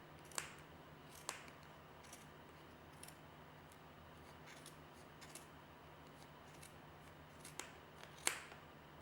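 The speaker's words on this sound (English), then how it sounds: "Now I've cut all the way through." Scissors cut through thick yarn on a large pom pom maker, giving a series of separate crisp snips spaced irregularly over a quiet room hum, the last cut sounding louder.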